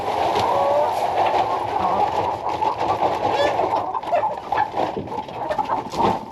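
Chickens cluck and murmur continuously nearby, a busy flock sound with occasional sharper calls over steady background noise.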